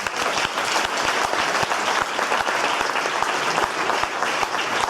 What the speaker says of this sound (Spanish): un aplauso por favor para Fernando